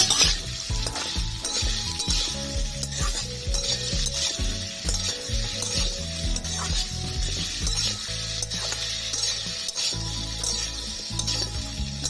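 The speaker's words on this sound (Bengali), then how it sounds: "কেটে রাখা বরবটি দেবো লবণ হলুদ গুঁড়ো ভেজে নেবো" Cut yardlong beans frying with salt and turmeric powder in a pan, a dense steady sizzle running throughout with occasional light clinks of a utensil, close and continuous, no voices.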